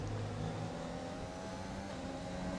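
Formula 1 race car engines in F1 2020 at Melbourne's Australian Grand Prix circuit hum quietly in the background, a faint continuous whine with subtle pitch shifts and no voices.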